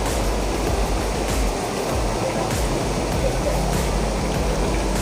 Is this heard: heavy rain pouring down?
yes